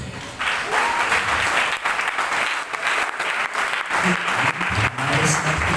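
An audience at a talk gives loud, sustained applause with a thick, continuous wash of clapping, and a few voices briefly rise near the end.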